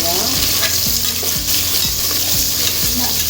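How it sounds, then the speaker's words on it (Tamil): Chopped onions stirred into tomato rice in a hot pan, a spoon scraping in regular strokes about twice a second over a steady close sizzle, with no talking. "சேர்த்து நல்லா கிளறி வச்சுருவோம்."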